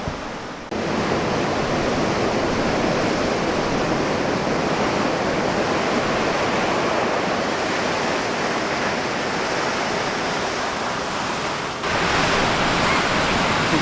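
Large ocean waves break and roar continuously at J Bay, a dense, loud wash of surf that fills the scene from near to far, with a brief dip before the pounding crash swells back up.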